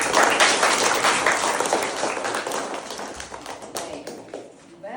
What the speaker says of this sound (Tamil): அவங்களுக்கு ஒரு கைத்தட்டில் கொடுத்துருவோமா